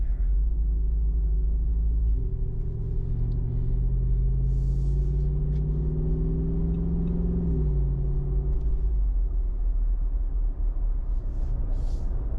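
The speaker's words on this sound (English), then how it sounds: "Just that idling rumble that you can hear in the back sounds good." A Jeep Rubicon 392 Final Edition idles with a low, steady engine rumble, faint and in the background, its tone shifting slightly partway through and then settling.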